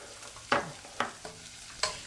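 Seasoning stirred into onions in a pan for a vegan lasagna sauce: four quick spoon scrapes with soft sizzling between them, close and moderately quiet, no voices.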